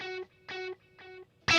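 A clean electric guitar patch from Archetype Plini plays a single note that repeats three times through a dry delay, each echo short and clipped with silence between, followed by a sharp burst at the end.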